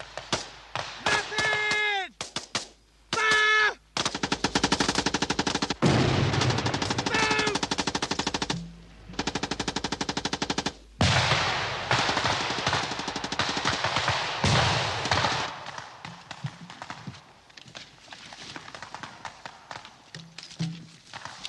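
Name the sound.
gunfire during an infantry section withdrawal in woods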